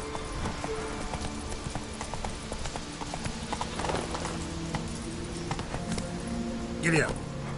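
Horse hooves clip-clop in a steady rhythm close by, with speech over them and a brief louder whinny-like cry near the end.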